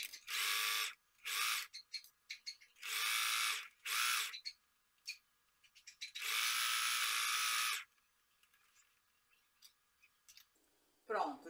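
A sewing machine stitching a fabric cosmetic bag runs in several short whirring bursts and one longer two-second run, close and loud, separated by quiet pauses with small handling clicks.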